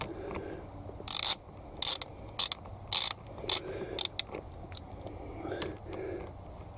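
A ratchet socket wrench clicks in short bursts during a van battery and antenna install, several quick ratcheting runs close by over a low background hum.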